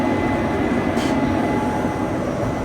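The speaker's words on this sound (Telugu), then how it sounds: "లోకోమోటివ్ వచ్చింది అక్కడికి." A locomotive arrives at a railway station, giving a loud, steady, low rumble and hum that fills the whole stretch without letting up.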